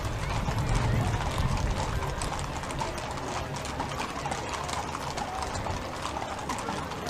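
Horses' hooves clip-clop steadily on pavement during the Stemilt Grand Parade, a dense, continuous patter of many hooves with a voice talking over it.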